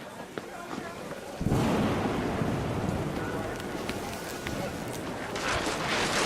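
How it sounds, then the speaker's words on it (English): Heavy rain and rumbling thunder in the video game What Remains of Edith Finch, a dense, loud downpour that surges in after a quieter opening and roars steadily, with thunder swelling beneath it. "The thunder sounded much too close and full"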